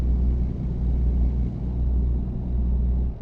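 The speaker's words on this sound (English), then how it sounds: "using my engine brake here" Heavy truck engine braking in American Truck Simulator, a loud, deep rumbling drone with a brief dip, sustained for about three seconds with no talking.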